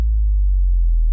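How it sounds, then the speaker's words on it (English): A sub drop, a bass drop with all high frequencies stripped out, gives a single deep, booming sub-bass tone. It sustains steadily for just over a second, alone and with nothing above the low end. "But what you can do is called a sub drop,"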